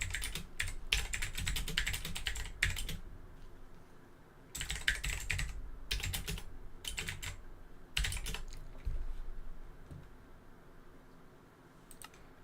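Bursts of computer keyboard typing, quick clustered keystrokes in several separate runs with short quiet gaps between them, fairly close and clear, no talk.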